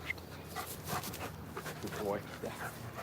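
A German Shepherd pants rapidly and heavily in the summer heat during backyard training, close to the microphone, with someone talking over it.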